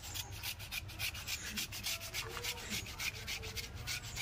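Taro rubbed by hand against a rough surface to grind it down before paste-making, a continuous close scraping rasp with quick, regular back-and-forth strokes and no talking.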